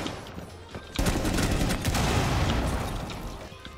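Rapid bursts of video game gunfire crackle loudly and densely for several seconds after a brief lull, with players talking over the shooting.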